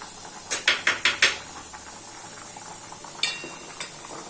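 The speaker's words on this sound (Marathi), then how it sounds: "वरती डाळ शिजत आल्यावर फेस असते, तो थोडासा मी काढून घेते चमच्यानं" A spoon scrapes and taps against a pot of boiling dal several times in quick succession while skimming off the foam, followed by a few fainter clinks over a low simmering bubble.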